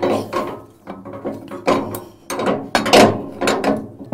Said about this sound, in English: So hatch, the weed hatch. Simply undo the T-bar.